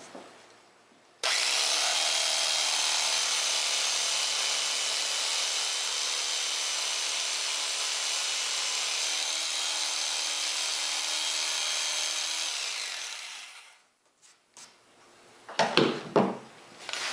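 A power saw makes the final cut through pine wood, with a spring clamp holding the piece. One steady loud cutting run lasts about twelve seconds, then it winds down and is followed by a few brief knocks.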